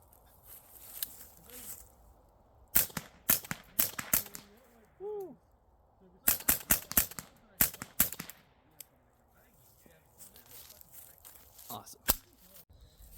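Suppressed .22 rifle shots at an outdoor shooting range, a string of sharp, fairly loud cracks in quick bursts and single shots, with quiet gaps, brief talk and other shooters' activity in the background.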